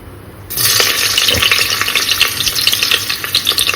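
Soya chunks hit hot oil after a brief quiet moment and fry lightly for an egg biryani, producing a sudden loud sizzle that continues with bubbling crackle and occasional stirring scrapes.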